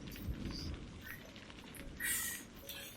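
Rain ambience outside a tavern in a fantasy tabletop roleplay: soft, steady patter of rain with faint scattered drips and light chirpy high sounds, quiet and continuous, no voices.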